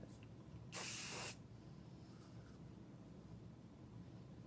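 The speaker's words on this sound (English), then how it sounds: "This is their Compressed Micro Mist Invisible Hold Hairspray Reinvented." A single close burst of compressed micro-mist invisible-hold hairspray hisses for about half a second, then gives way to quiet room tone.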